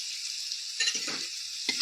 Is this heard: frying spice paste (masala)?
yes